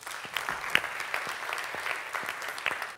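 A seated audience at a public lecture claps to welcome the speaker, with a steady patter of many hands and a few sharp, distinct claps standing out nearby.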